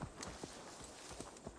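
Horse hooves clip-clop in Assassin's Creed Valhalla, a steady run of about six or seven evenly spaced hoof strikes, moderately close, with soft game ambience underneath and no talk.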